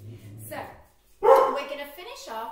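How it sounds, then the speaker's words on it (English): A dog barks at seagulls, a few sharp barks close by, while a woman leading a seated exercise session keeps talking over them. "that's my dog barking at the seagulls."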